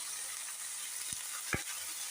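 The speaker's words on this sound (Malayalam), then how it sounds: "ഇതെല്ലാം കൂടെ വഴറ്റാം." Dried red chillies, urad dal, ginger and curry leaves sauté in a pan: a soft, steady sizzle broken by two short scraping stirs, with no talk.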